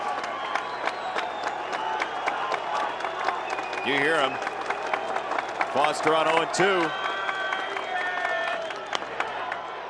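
Fans in the stands at an Orioles–White Sox baseball game clap in a steady patter under a broadcaster's commentary, with crowd murmur and a couple of louder cheering swells.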